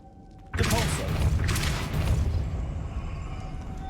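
A Depulso spell cast in Hogwarts Legacy lands as a sudden booming thud that rolls into a sustained rumbling blast with swells of debris-like crackle, loud and close.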